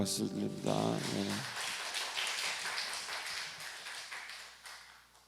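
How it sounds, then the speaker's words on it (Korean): A church congregation claps together during a Sunday worship service, a dense burst of applause that swells and then tapers off, mixed with voices and music at the start. "우리 하나님께 영광의 박수를 드립니다"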